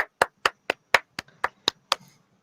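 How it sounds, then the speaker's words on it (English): About nine separate, evenly spaced claps sound close and crisp, one person welcoming a research fellow from a mechanical engineering department onto a science showcase, with nothing else in between. "would you mind applauding, please?"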